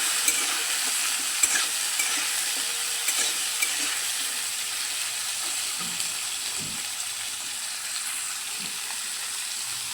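Pumpkin pieces and bitter gourd stir-fry in a pan, giving an even close hiss of frying oil with a few soft stirring knocks and scrapes scattered through, no voices.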